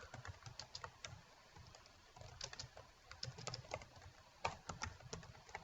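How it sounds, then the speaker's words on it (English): A quiz question is typed on a computer keyboard as a quick, irregular patter of soft key clicks in short bursts with brief pauses, faint and close. "so type in your question"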